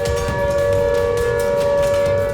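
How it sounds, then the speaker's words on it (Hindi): A civil defense siren in Taiwan wails as a loud, steady, sustained tone that carries unbroken from start to finish. "नॉन स्टॉप गूंजती सायरन की आवाज"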